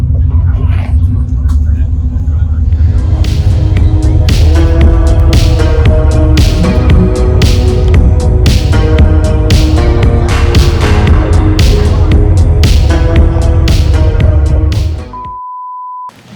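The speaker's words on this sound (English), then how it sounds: "we're now on board the bus and it's an 8-hour journey to Angola, Lobito" Inside a moving long-distance bus on an eight-hour road journey to Lobito, Angola, a loud low engine drone and road rumble run steadily under talking, then cut off abruptly to a single electronic beep.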